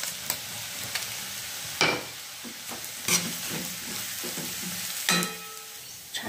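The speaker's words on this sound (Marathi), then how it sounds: "परतून घेतलेलं आहे तेलात मिरची आणि शेंगदाण्याचं वाटण" Chili and peanut paste frying in hot oil in a kadhai: a steady close sizzle with occasional sharper scrapes and clinks of stirring, no voices.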